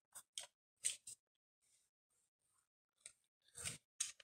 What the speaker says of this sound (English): cut off all the frays and make the edges a bit more symmetrical and smooth